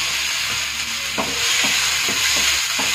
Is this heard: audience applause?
no